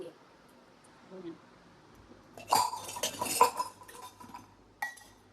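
Steel dishes and utensils clatter and clink while being scrubbed at home, first faint then a dense burst of loud rattling and knocking, with a final sharp clink; soft background sounds precede it.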